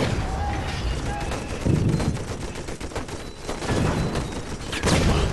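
Howitzer fire in the Toy Soldiers game, heavy booming shots with rattling gunfire and explosions layered over a dense battle din, loud and close, recurring every second or two.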